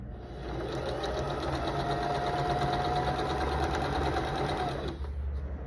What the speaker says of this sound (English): So I'm going to start sewing it at a 1/4 inch.